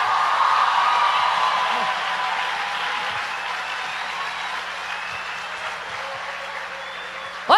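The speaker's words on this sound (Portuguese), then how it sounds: "Se é para aplaudir, aplaude tudo junto." Audience applause during a church talk, a broad sustained wash of clapping that is loud at first, eases gradually and thins out toward the end, with no speech over it.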